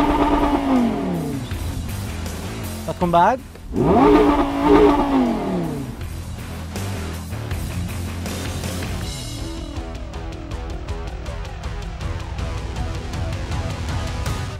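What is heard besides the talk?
Lamborghini Gallardo 5.2 litre engine revving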